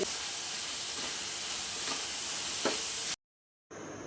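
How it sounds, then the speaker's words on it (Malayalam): Chopped vegetables for a vegetable biryani hiss and sizzle steadily in hot ghee, a loud continuous frying crackle that cuts out abruptly before resuming. "നെയ്യ് ചൂടായി വന്നിട്ടുണ്ട് ഇതിലേക്ക് നമ്മൾ മുറിച്ച് വെച്ചിരിക്കുന്ന വെജിറ്റബിൾ ചേർത്ത് കൊടുക്കാം"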